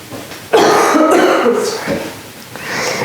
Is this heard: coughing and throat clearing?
yes